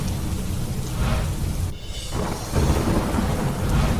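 A thunderstorm with heavy monsoon rain in Gujarat makes a loud, continuous roar of downpour. Rumbling thunder swells through it, with no voices.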